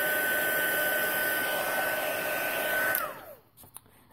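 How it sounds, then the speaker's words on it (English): Steady loud whooshing roar of a heat tool blowing hot air over a stamped paper card, running for about three seconds before switching off and winding down with a falling tone, followed by faint handling noises. "So I'm going to just zap that with the heat tool."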